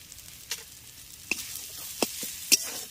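Peanuts and coconut frying on low heat in a pan, with a quiet, faint sizzle broken by a few sharp stirring clinks and scrapes spaced through the stretch.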